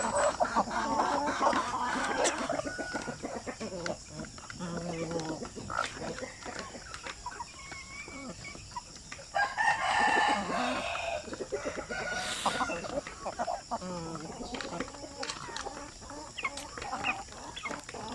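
Native chickens, kept alongside Black Australorp crossbreeding stock, cluck and chatter repeatedly nearby while a rooster crows once or twice, all in a busy outdoor farmyard with no one talking.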